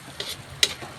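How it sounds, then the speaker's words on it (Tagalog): Pork with shrimp paste (bagoong) and eggplant is stirred in a pan, giving a couple of quick, close scraping strokes over a soft simmering background. "hinahalo ko lang siya maigi para ma-absorb talaga ng bagoong"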